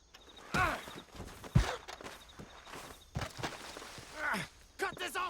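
Horse hooves clop irregularly on the ground in Red Dead Redemption 2, close and moderately loud amid scattered movement noises, with a brief voice or breath between steps.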